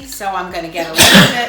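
One sharp sneeze bursts out in a home kitchen right after someone finishes a sentence, loud and close at the end of the moment.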